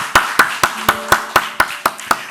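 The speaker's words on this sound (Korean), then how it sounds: "축복과 감사의 박수를." In a church service, about nine evenly spaced sharp claps ring out close and clear in a steady rhythm, sounding more like one or a few people clapping than a full congregation.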